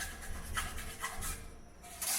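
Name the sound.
metal file removing burr from drilled holes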